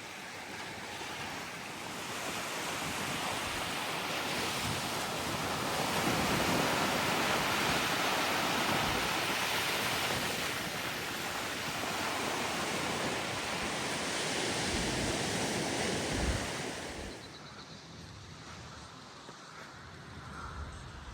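Waves washing onto Stogi beach in Gdansk, Poland, a broad continuous roar of surf mixed with wind buffeting, steady for most of the stretch before easing off toward the end, with no voices.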